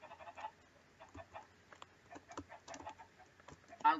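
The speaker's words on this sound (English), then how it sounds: "I found the chicken spawner." Chickens from a chicken spawner in a Minecraft-style video game, clucking repeatedly in short irregular bursts, soft and near, alone with no talk.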